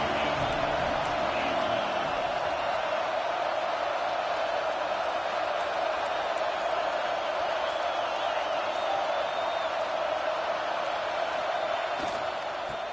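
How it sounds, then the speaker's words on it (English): A packed crowd at an NCAA basketball game roars steadily with sustained, dense cheering and whooping that fills the arena throughout, with faint sneaker and ball sounds underneath. "this crowd is fired up. Listen to this noise here."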